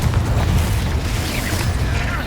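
Confringo blasting spell explodes in the Hogwarts Legacy video game, a dense continuous rumbling boom with heavy low-end roar that stays loud throughout, with spell effects crackling over it.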